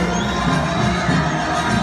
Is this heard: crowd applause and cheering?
yes